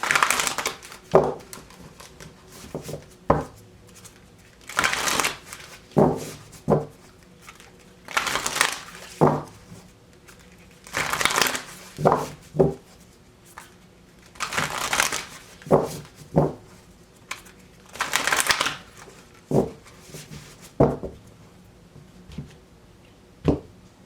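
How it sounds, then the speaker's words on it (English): Tarot cards are shuffled in repeated bursts of crisp riffling and slapping, with short pauses between rounds, close and fairly quiet. "sit here and wait for me to shuffle"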